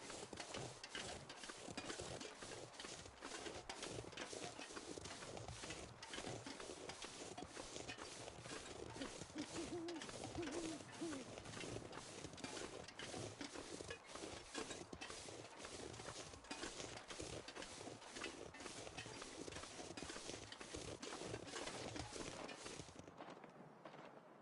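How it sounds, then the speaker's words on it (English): Footsteps crunch steadily outside in the survival game The Long Dark, a faint, continuous stream of repeated steps lasting over twenty seconds, heard alone without talk. "I hear footsteps out there."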